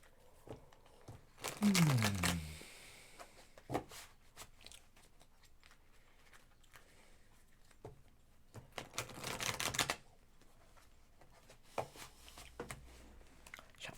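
Tarot cards being shuffled, with two bursts of brisk riffling and crisp card flutter separated by quieter handling clicks, close and fairly quiet.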